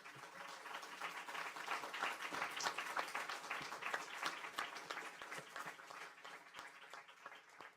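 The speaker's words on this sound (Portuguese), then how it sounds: "Vamos dar uma salva de palmas para você." Steady audience applause at a poetry tribute event, a dense wash of many hands clapping that swells and then slowly tapers, heard from a moderate distance with no voices over it.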